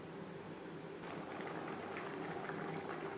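Egg curry gravy thinned with water comes to a boil in a pan, giving a continuous quiet bubbling and soft hiss that holds steady throughout.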